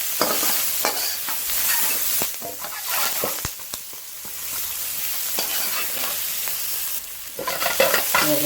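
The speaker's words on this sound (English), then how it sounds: "starting to sizzle really nicely and they're getting some colour" Chopped onions sizzle and crackle steadily in a very hot wok while being stir-fried for king prawn chow mein, with repeated scraping stirs and spatula clinks breaking through the frying hiss.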